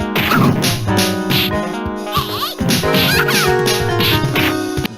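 Melody from the soundtrack of the arcade game Pretty Soldier Sailor Moon, loud, busy synthesized notes in choppy bursts with layered tones and brief pauses.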